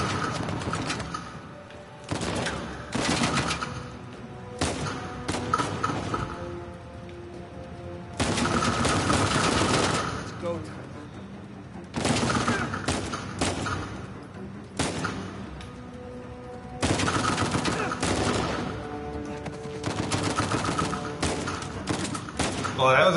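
Gunfire in Uncharted 4, repeated bursts of rapid shots and volleys in clusters separated by brief pauses, loud and close, with occasional speech.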